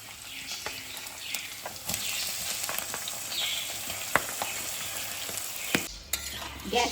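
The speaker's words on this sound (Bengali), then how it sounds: "মাখানো মাছটা দিয়ে দিচ্ছি।" Marinated kachki fish frying with green chillies and black cumin sizzles steadily up close, broken by frequent sharp scrapes and clicks of stirring, with a louder clatter near the end.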